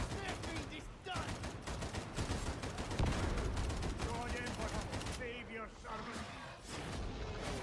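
Rapid gunfire in the Warhammer 40,000: Darktide video game, dense bursts of fast repeated shots rattling almost without pause, loud and close, with a short break near the end.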